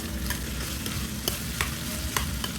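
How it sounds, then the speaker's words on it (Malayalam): Onions being stirred as they fry in a pan for a potato curry, with a steady close sizzle and a few sharp utensil scrapes against the pan, no voices. "ഇതിലേക്ക് സവാള ചേർത്ത് കൊടുക്കാം സവാള ഒന്ന് ഇളക്കി പച്ചമണം മാറുന്നത് വരെ ഒന്ന് ഇളക്കുക"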